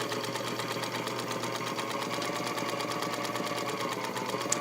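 A vintage all-metal Singer Featherweight sewing machine stitching at speed, a fast, even mechanical clatter and whir that holds steady and fairly loud throughout, with no talk.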